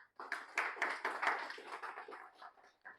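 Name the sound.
audience clapping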